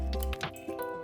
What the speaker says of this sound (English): add 4 eggs